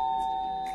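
A doorbell chime rings as a single clear, sustained electronic tone that fades slowly over under a second, with no talking.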